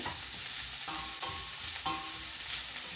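Onions frying in hot oil in a pan while being stirred, a steady close sizzle with a few scraping strokes of the spoon, no voices.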